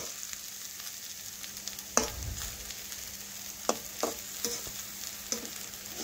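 Slices of pointed gourd and bitter gourd fry in a pan with a soft, continuous sizzle, broken by a few sharp clicks of a spatula turning them.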